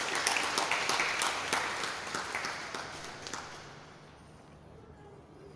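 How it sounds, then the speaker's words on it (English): Audience applause welcoming the newly installed president of the Ghana Academy of Arts and Sciences at a council handover ceremony, a steady mass of clapping that thins and fades toward the end. "Another round of applause."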